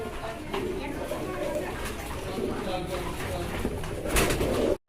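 Fancy pigeons for sale, including a black-coloured Rasgolla pair, coo repeatedly at close range in an enclosure while someone talks steadily over them.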